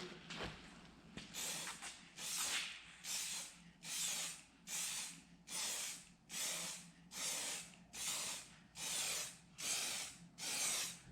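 Aerosol spray paint hisses in about a dozen evenly spaced bursts as a second coat of blue goes onto a Proline 1978 C10 RC car body, each pass close and rhythmic with short gaps between.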